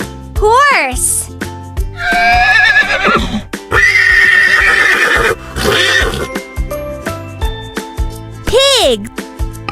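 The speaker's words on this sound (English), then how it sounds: "Horse." A horse neighs loudly in a bright, close whinny with rising and falling pitch, heard in bursts alongside clip-clop hooves, jingling and upbeat background music in a children's animal sounds program, with a voice naming the animal.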